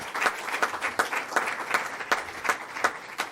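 Round of applause for Minister Don Muhammad, a crowd clapping steadily with a pulsing, roughly rhythmic beat, full and close throughout.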